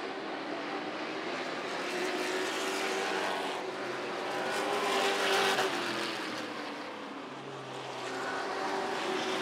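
Sportsman race cars circling Rockford Speedway, a steady loud engine roar that swells and fades slightly as the pack passes, continuous through the whole stretch with no talk.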